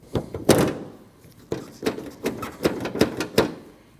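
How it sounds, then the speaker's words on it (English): A rear exterior door handle on a 2012-2021 Nissan NV2500 van is worked into place, producing a series of close plastic-and-metal clicks and thunks at irregular intervals, with no talking. "you want to push your door handle in and towards the vehicle."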